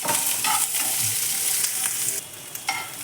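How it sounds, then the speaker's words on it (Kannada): Two long-cut onions frying and being stirred in a pan until browned, for a coastal-style chicken curry; steady close sizzle with scraping stir strokes, no talk. "ನಾನೊಂದಿಲ್ಲಿ ಎರಡು ಈರುಳ್ಳಿ ತೊಗೊಂಡಿದ್ದೀನಿ ಇದು ಕೂಡ ಕೆಂಪುಗೆ ಹುರ್ಕೋಬೇಕು"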